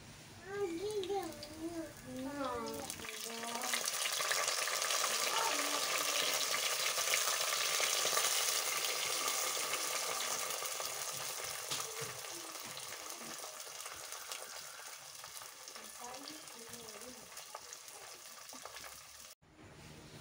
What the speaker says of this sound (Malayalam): വെളിച്ചെണ്ണയിൽ അധികം കടുകൊന്ന് പൊട്ടിയതിന് ശേഷമാണ് പച്ചമുളകും അതുപോലെ തന്നെ ഇഞ്ചി ചെറുതായി കട്ട് ചെയ്തിട്ട് അതും ഇട്ട് കൊടുത്തിട്ടുണ്ട്